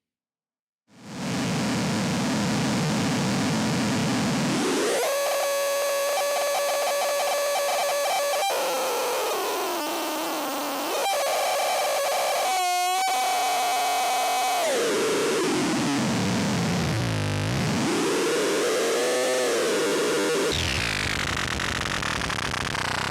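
Modular synthesizer patch with a top section set to cycling, producing a dense roaring wash of noise that swells, sweeps and dips in pitch with sharp glitches, loud and continuous after a brief silent start.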